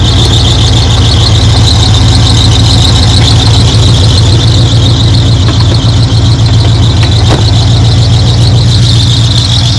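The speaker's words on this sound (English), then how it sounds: "The squealing you're hearing is the fan belt." A fan belt squeals on the 305 TPI V8 of a 1986 Camaro IROC-Z28, heard close up as a loud, continuous high-pitched whine over the running engine.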